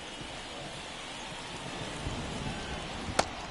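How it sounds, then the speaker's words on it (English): Rain falls steadily on a baseball field during an Orioles MLB game, a continuous even hiss throughout with one sharp click near the end. "the field's not going to be able to hold up if the rain gets any worse than this"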